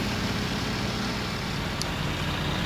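A tractor engine in the Farming Simulator 19 video game drones steadily and loud at close range the whole time, with no change in pitch and no talking.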